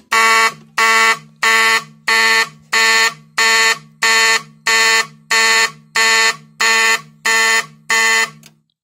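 A fire alarm system on a test workbench sounding off, loud horn-like blasts repeating in an even rhythm about one per second, a dozen pulses close up before stopping.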